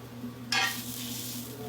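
A steak sizzles in a hot pan, with a sudden bright hiss as it is disturbed, then a steady frying crackle over a low background hum.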